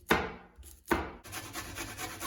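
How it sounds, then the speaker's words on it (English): Garlic cloves are rubbed against a box grater, with two sharp rasping strokes followed by steadier, closer scraping, quiet and free of talk. "I usually like to use a box grater to cut up my garlic because it's actually easier than doing this continuously"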